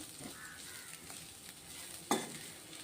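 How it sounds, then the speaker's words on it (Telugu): Grated coconut fries in oil while being stirred for a dried prawn fry, a quiet, steady sizzle with soft scrapes and one sharp clink of the utensil against the pan. "ఈ కొబ్బరి కూడా ఆయిల్లో చక్కగా వేగాలి ఇది కొద్దిగా ఒక్క నిమిషం వరకు వేగే వరకు ఇలా కలుపుకుందాం"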